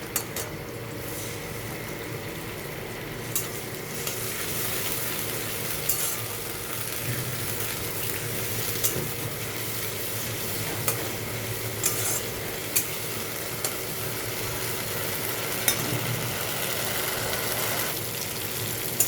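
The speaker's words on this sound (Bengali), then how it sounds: "আদা জিরে বাটাটা কষা হয়ে গেছে" Ginger, cumin and coriander paste frying in a pan for an aloo potol curry, with a steady soft sizzle and repeated scraping stir strokes that run close and continuous throughout.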